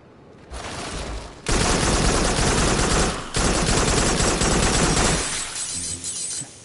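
Gunfire in the video game Farpoint comes in long, loud automatic bursts that sound sharp and shattering. A brief gap breaks up the bursts, and they trail off near the end.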